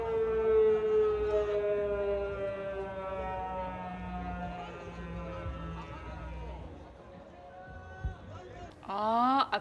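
A civil defense siren wails steadily and slowly falls in pitch, fading out before crowd noise and a sharp burst of sound at the end.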